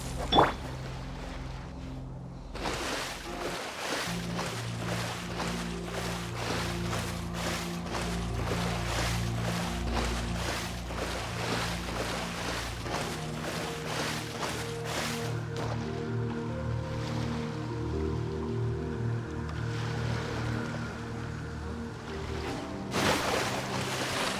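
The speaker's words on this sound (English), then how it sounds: "Waves are as calm as always." Gentle ocean waves lap continuously at sea in the video game Genshin Impact, a steady wash of water with faint creaking and wind layered through, no voices.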